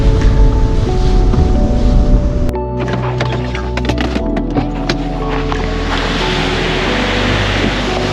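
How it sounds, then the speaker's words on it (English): A flooded waterfall in the Elaho Valley near Squamish roars nearby as a loud, steady broadband rush of pounding water, with brief clatter and wind buffeting on the microphone. "I'm going to go ahead and assume that this waterfall usually isn't this powerful."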